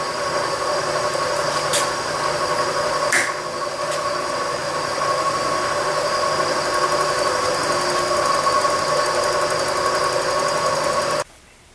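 A milling machine cuts the surfaces of a Banshee cylinder head, giving off a steady, loud mechanical whine with tonal hum that runs continuously before stopping suddenly near the end.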